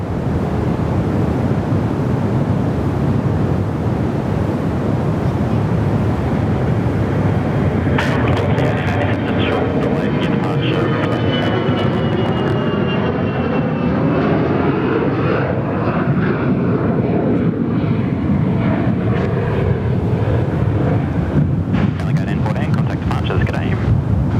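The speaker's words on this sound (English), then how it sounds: "Qantas Link, Fokker 100 next to go." A QantasLink Fokker 100 jet takes off at an airport with a loud, sustained engine roar and rising whine that swells and shifts as it passes, while wind buffets the microphone throughout.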